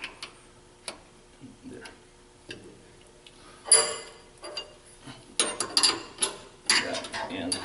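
Bolts being lightly hand-tightened on an aluminum cylinder head during machining setup, sparse metallic ticks and ratcheting clicks spaced out, growing busier toward the end, with a brief spoken word.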